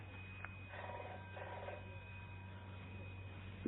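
A telephone rings indoors in a radio comedy scene, two short trilling bursts in quick succession, faint and thin against a quiet background hum, with no one speaking.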